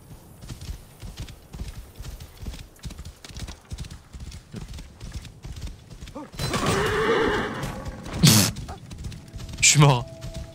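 A horse in the video game Assassin's Creed Origins gallops with rhythmic clip-clop hooves, then lets out loud neighs and whinnies, followed by a sharp crash. Game ambience plays underneath throughout.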